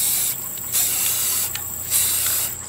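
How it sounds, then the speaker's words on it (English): Bursts of hissing spray paint come in short pulses onto Altoids tins, with a steady high hiss between them and a faint mechanical rattle, close by and fairly loud. "I'm going to spray paint the top and the bottom of the boxes"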